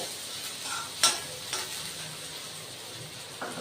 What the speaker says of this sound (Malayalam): ഞാൻ ഉള്ളി ഇടുവാണ്.